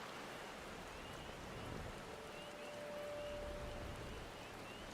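Rain pattering in Final Fantasy XIV, a constant low wash of drops holding steady throughout, faint and distant, with a brief faint tone partway through and no talking.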